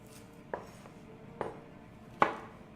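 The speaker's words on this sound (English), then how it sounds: "There's only a little bit of coarse chopping." Three sharp knife strokes on a cutting board, evenly spaced and growing louder, as garlic is coarsely chopped in a home kitchen, with quiet room noise between.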